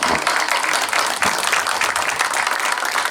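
Applause from a congregation at an outdoor church gathering in Torocagua, Honduras, a steady, dense wash of clapping that stays loud and even throughout, with faint voices underneath.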